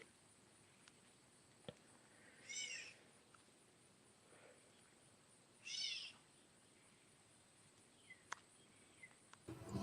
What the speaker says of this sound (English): This is a bird. Oh, it sounds like a fucking cat.